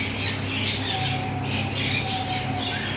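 Caged breeder pair of birds at a Sunday bird market in Bahawalpur, squawking in repeated harsh calls over a constant busy market hubbub, fairly close.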